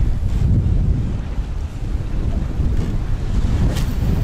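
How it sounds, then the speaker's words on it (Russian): Strong wind and choppy waves beat around a small fishing boat in roughly 15 m/s wind while jigging, a steady, loud roar with heavy wind buffeting on the microphone and no talk. "Эх, волна какая!"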